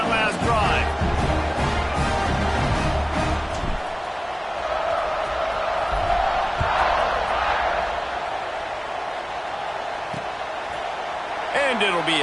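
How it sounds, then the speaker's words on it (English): Football stadium crowd in a video game, a continuous roaring cheer with scattered thumps and a broadcast commentator talking over it throughout. "this crowd is feeling themselves after that last drive"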